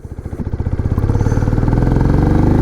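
A Benelli Imperiale 400 motorcycle's old-style single engine thumps steadily and loudly up close, with a rapid, even pulse that builds slightly as the bike pulls away in gear.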